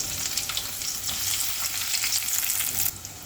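Onions and green chillies fry with cumin seeds in hot oil in an Andhra kitchen, a dense close-up sizzle with crackling bursts and stirring, steady and without speech.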